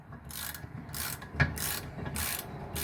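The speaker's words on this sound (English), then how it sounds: "And snug them up with a wrench." A wrench ratchets to snug the rear brake caliper bolts on a 2018 Chevy Cruze LT, giving a series of rhythmic clicking ratchet strokes, close and fairly faint, with a small knock midway.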